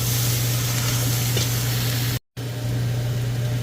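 Vegetables and daikon radish sizzle loudly in a stew pot, a dense steady hiss with a low hum beneath, broken once by a brief silent gap.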